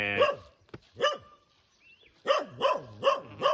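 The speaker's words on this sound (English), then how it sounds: "there was one house that had dogs. They were getting pretty close and barking" Dogs barking near a house along a hiking trail to Maragua Crater near Sucre, a single bark followed by a rapid run of loud, close barks.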